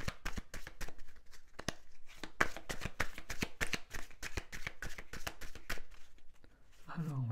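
Oracle cards being shuffled for a reading, a dense run of quick riffling slaps and flutters, close and steady, with a voice speaking faintly near the end.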